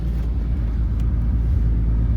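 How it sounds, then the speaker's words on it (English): A car engine idles steadily while warming up after a coolant refill, a low continuous rumble close by with no talk. "Car's running. I'm gonna let it warm up and see how everything goes."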